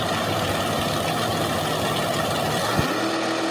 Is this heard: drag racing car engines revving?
yes